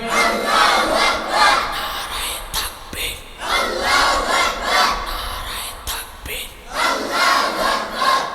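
A large religious gathering chants the Nara-e-Takbir battle cry in unison, with three loud, rhythmic surges of massed voices separated by brief lulls.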